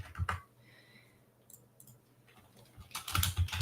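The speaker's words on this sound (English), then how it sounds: "You can hear me typing." Computer keyboard keys clatter in quick close clusters at the start and again at the end, with a quieter lull between and no talking.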